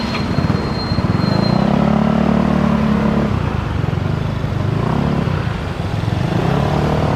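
Motorcycle engines and street traffic, a loud continuous drone of idling and revving engines close by, with pitch rising and falling as vehicles move, and no talking.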